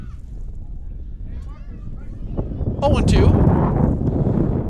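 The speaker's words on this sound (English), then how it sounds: "As a big gust of wind comes rolling through here." Strong wind gusts buffet the microphone at an outdoor high school baseball game, a low rumbling roar that swells louder midway through while a commentator talks over it.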